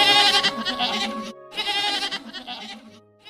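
A goat bleats in two wavering, nasal calls separated by a short gap, fairly close and clear, with nothing else heard.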